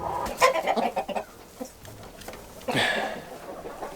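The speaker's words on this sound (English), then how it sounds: "Oh, there's a chicken in there." Chickens cluck inside a barn in short, irregular bursts, fairly close, with a louder squawk near the end and quiet gaps between calls.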